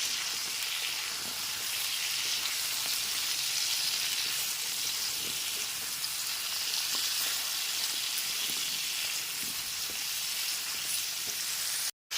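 Pointed gourd pieces coated with salt and turmeric fry in a pan over a medium gas flame, giving a steady, close sizzle with occasional light stirring taps, continuous until it cuts off abruptly at the end.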